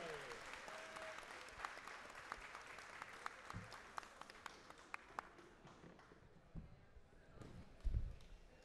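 Audience at Circo Voador applauds in a fairly faint, sparse patter of claps that fades toward the end, with a few louder knocks near the close.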